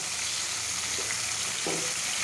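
Chicken pieces frying in a pan, a steady close sizzle and crackle of hot oil running throughout with a couple of faint stirring scrapes, no talk.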